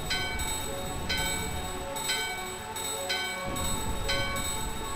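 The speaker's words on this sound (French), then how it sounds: "Votre cloche et celle de la porte sonnent à l'unisson." A bell in the video game Final Fantasy IX, struck repeatedly in a steady rhythm, each ring sustained and overlapping against a continuous musical drone, loud and close with no speech.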